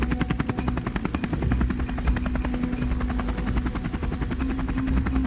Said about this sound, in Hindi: इस तरह लंबू अपनी बाइक पर, सुरेश हेलीकॉप्टर पे और नागराज उड़ते हुए टापू की तरफ बढ़ने लगते हैं।